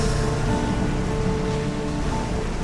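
A spring erupts in a canyon with a continuous rush of gushing water, a steady surging wash beneath faint sustained tones.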